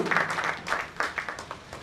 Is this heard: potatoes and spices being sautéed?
no